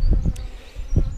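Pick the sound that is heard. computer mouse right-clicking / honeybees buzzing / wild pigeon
honeybees buzzing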